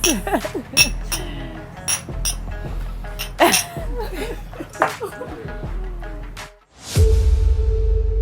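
Glasses clink together in a toast among a group of women, several bright, sharp clinks scattered through the moment amid laughter and chatter, followed by a short sustained ring near the end.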